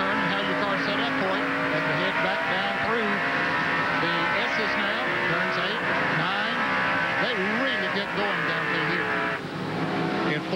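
NASCAR Winston Cup stock cars race and brake hard into turn 11 at Sonoma in the 1996 Save Mart Supermarkets 300. Loud engines wail and shift pitch, with occasional tire squeal, under continuous commentary voices.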